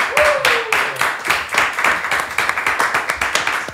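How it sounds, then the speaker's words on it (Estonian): Small studio audience of a handful of people clapping on an Estonian talk show, a steady patter of close hand claps with a brief whistle near the start. "pool sellest aplausist ma teen ise praegu"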